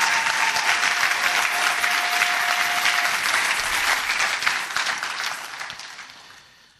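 A church congregation applauds during a French-language sermon, a dense, steady wash of clapping that holds strong and then gradually fades out toward the end.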